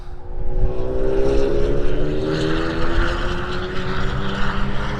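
A loud engine drones steadily with a rising, slightly sweeping pitch as a Honda Civic Type R FK8 race car speeds down a straight at a distance during a Snetterton time attack event, with no talking.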